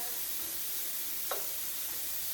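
Shrimp sizzle in a hot pan while being stir-fried, giving a steady bright hiss throughout with one brief clink of a utensil partway through, close and even, with no talk.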